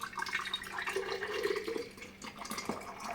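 Liquid being poured during lecho preparation, a short gurgling, splashing stream close by for about two seconds, followed by a few drips and clinks, with no talk.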